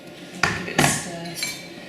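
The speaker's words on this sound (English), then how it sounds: "Give it a stir." A spoon stirs a lime cheesecake mixture in a bowl, giving three distinct clinks and scrapes against the bowl with short quiet gaps between them.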